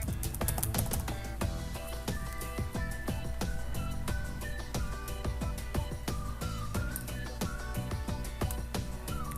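Fingers type a database name on a computer keyboard, making a quick run of light key clicks over steady background music, with no talking.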